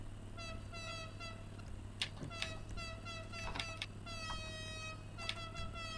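Repeated vehicle horn honks in the Motorcorns racing video game, a string of tonal toots and beeps of varying pitch layered over a steady low engine hum, moderately quiet.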